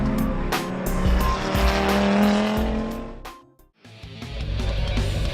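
A four-wheel-drive race car on the Wakefield Park raceway roars past close by with a rising engine note and squealing tyres, fades briefly to near quiet, then returns as engine noise builds again.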